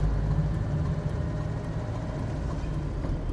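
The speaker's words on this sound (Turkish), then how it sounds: "Evet motor çok güçlü." A classic BMW 2002 engine runs steadily at close range, a deep, continuous low rumble with a constant drone and no break.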